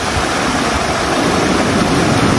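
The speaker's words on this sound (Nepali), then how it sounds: "यो खोलाको छङ छङ छङ छङ छङ छङ आवाज आइरहेको" A river stream on the road from Pokhara to Mustang rushing loudly and close by, a steady broadband roar of churning water with no pauses.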